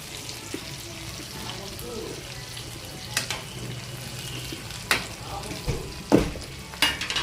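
Broad beans fry in a pan with a low, continuous sizzle, broken by a few sharp spatula scrapes and clinks against the pan that grow more frequent toward the end.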